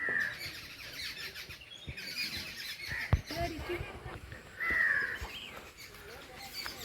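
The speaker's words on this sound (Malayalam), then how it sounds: "ഭയങ്കര ശാന്തമായ സ്ഥലമാണ് കുറേ പക്ഷികൾ ഒച്ച മാത്രമുണ്ട്" Birds call and chirp faintly around a quiet temple pond, with a crow cawing now and then amid soft outdoor ambience.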